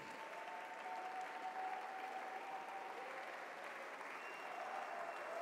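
A church congregation at a Sunday worship service claps and cheers in sustained, dense applause, steady and moderately distant, with faint voices mixed into the crowd noise.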